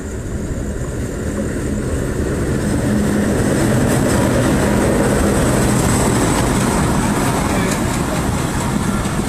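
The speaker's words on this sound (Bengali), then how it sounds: "উদ্ধারকারী ট্রেন ফুলবাড়ি থ্রু পাস যাচ্ছে" A rescue train, numbered 6406, passes through Phulbari station: a steady, loud rolling rumble of wheels and cars that holds for the whole stretch, with a constant roar and no clear horn.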